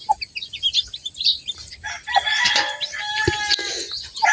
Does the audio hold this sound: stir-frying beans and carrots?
no